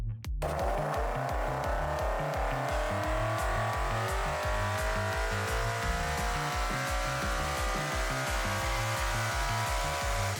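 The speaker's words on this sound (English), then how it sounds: "we had to run the car in the dyno in full power mode, right, with the foot to the floor" BMW E46 M3 fitted with a swapped S65 V8, run on a dyno at full power with the throttle floored, giving a loud, steady roar with a rising tone and a continuous low pulsing rhythm, and no talking.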